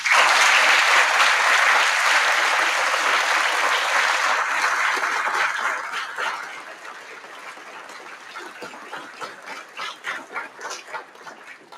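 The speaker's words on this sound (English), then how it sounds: "can we give them a big round of applause for putting this together for you?" An audience applauds committee members at an East Valley Institute of Technology ceremony, loud sustained clapping that thins after about six seconds into scattered, fading claps.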